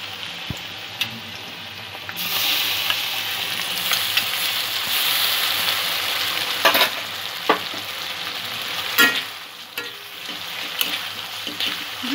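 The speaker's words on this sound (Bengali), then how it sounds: "দু এক মিনিট একটু ভেজে নেব মশলাটা" Onion frying with ginger-garlic paste for chicken kadai, a bright continuous sizzle that swells after a quiet start, broken by occasional stirring scrapes and clinks.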